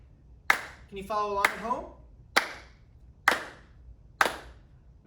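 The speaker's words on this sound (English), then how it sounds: "But can you clap with a steady beat?" A group at a summer arts camp claps hands to a steady beat, with sharp, evenly spaced claps under a spoken question near the start.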